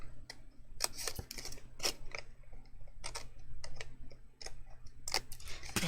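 Scissors snip through cardstock while an ice cream cone gift box is being crafted, giving a close series of short, crisp cuts in irregular bursts over a low steady background hum.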